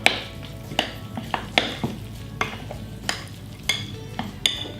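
A spatula folds low carb carrot cake batter in a bowl, making repeated scraping taps against the sides about once every half second, close and clear over a soft background hiss.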